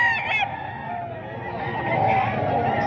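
Young stag gamecock crowing loudly and close, a single drawn-out crow with harmonic rises and a falling tail, another brief call at the start.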